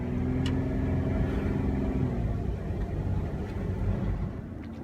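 A vehicle towing a BMW drives along with a steady, low engine drone and road rumble that holds constant throughout, close and continuous with no voices.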